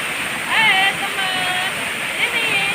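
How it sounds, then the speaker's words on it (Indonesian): Batu Putu waterfall in Bandar Lampung, a steady broad rushing wash of falling water, with faint voices and birdlike chirps over it. "ini air terjun Batu Putu"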